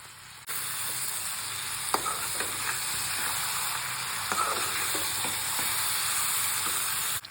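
Ground mustard paste frying in hot oil for a jolpai (Indian olive) pickle, a steady close sizzle that begins abruptly and carries on with scattered pops and crackles, no voices.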